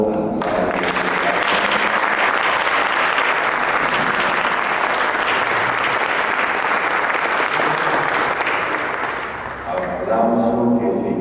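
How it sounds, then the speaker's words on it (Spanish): An audience at a Catholic talk on the Cross of the Apostolate claps steadily for the priest, loud sustained applause lasting about ten seconds before tapering briefly and picking up again. "Les pido que le demos un aplauso al Padre."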